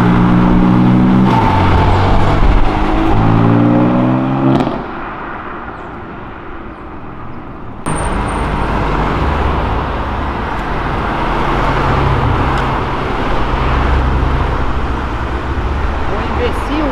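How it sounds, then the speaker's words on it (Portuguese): A two-door Volkswagen Golf GTI VR6 rumbles past on a city avenue, its engine noise loud and close at first, then fading into steady traffic noise as people talk nearby. "Um Golf GTI VR6 na frente, duas portas, maravilhoso."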